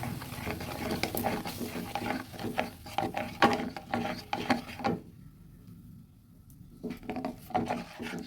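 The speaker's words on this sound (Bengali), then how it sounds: "নেড়ে নেড়ে নেড়ে নেড়ে যেই চিনিটা ক্যারামেল হয়ে গেছে ওটাকে নেড়ে আবার গলিয়ে নেব" Caramelized sugar and milk being stirred in a pan for lachcha semai, with scraping, clinking utensil-on-pan strokes and bubbling, broken by a brief quiet stretch before the stirring resumes.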